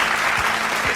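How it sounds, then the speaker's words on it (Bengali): An award show audience applauds in a dense, steady wash of clapping from a large crowd, with faint low thumps underneath. "হাততালিটা চলুক, হাততালিটা চলুক"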